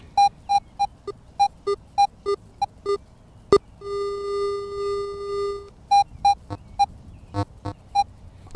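Metal detector sounding over a buried coin while digging outdoors: a steady series of short, evenly spaced electronic beeps, broken by a sustained multi-tone chime in the middle, then more beeps; close and clear with no talk.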